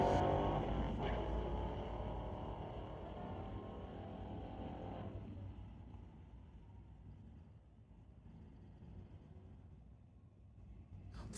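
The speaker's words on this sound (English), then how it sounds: "the 2021 Chevy Corvette in the Tower Lane going against the Mustang in the Lordco Lane" A 2021 Chevy Corvette drag races a Mustang at a street-legal drag strip, with loud engine roar that fades as the cars pull away into a distant, steady drone.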